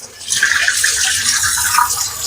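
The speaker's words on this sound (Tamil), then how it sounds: "இதை நல்லா வாஷ் பண்ணிக்கணும் ஒன்றுக்கு மூணு தண்ணியில் வாஷ் பண்ணிவிட்டு" Pumpkin leaves are washed in water, a steady, fairly loud splashing and swishing of liquid that continues for a couple of seconds, with no talking.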